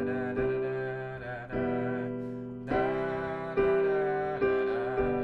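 A solo piano plays the verse of a song, with sustained chords struck in turn. Each chord rings and decays before the next, and the playing is clear, close and unaccompanied.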